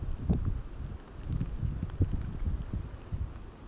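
Wind gusts at Hornbill View Point in Valparai with rain, buffeting a nearby microphone in uneven low rumbling pulses, steady and fairly loud throughout, with no talking.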